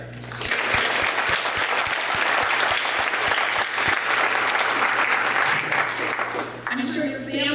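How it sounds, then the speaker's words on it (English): An audience at an oath of office ceremony gives newly elected officials a long, full round of applause, close and sustained with a steady thumping beneath it, and a voice begins speaking as it ends. "I think they all deserve a big round of applause for putting themselves out there"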